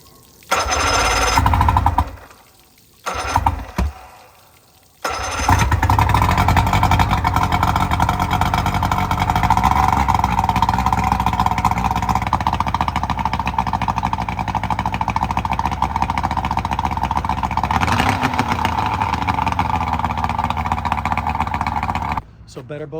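A project boat's outboard engine cranks in short bursts, then catches and runs steadily with a loud, sustained drone for most of the stretch, with voices talking over it.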